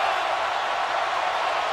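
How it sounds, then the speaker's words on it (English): A football stadium crowd at a college game between Florida and Tennessee roars in a steady, loud, unbroken wash of cheering that fills the whole moment without any distinct voices standing out. "This crowd is alive now."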